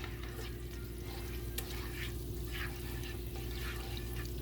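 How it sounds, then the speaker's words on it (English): Butter melting over medium heat in a pan for asparagus makes a soft, steady low sizzle with faint crackles, quiet and continuous throughout. "We're gonna let the butter just melt."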